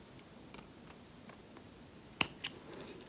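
Scissors cutting crochet yarn: a few faint, sharp snips and clicks, with two distinct louder cuts near the end, against a quiet room.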